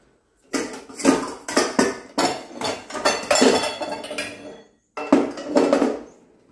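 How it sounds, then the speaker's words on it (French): A metal saucepan clanks and scrapes close by as it is lifted and set down, a series of clattering knocks with a brief pause near the end. "On va prendre une casserole."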